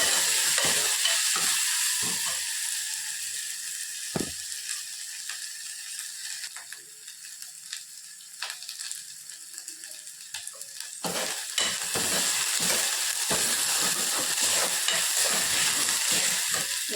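Ingredients with a spoon of paste being stirred and sautéed in a frying pan, a constant sizzling hiss broken by repeated scraping and clinking strokes of a utensil, close and without talking.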